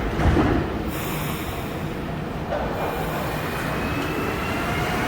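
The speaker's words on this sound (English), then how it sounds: "Trains uses rubber wheels, which is unusual in North America, so it's very comfortable." A Montreal Metro train runs on rubber wheels with a continuous close rumble that shifts slightly partway through, and a thin, faint squeal rides above it. No one speaks.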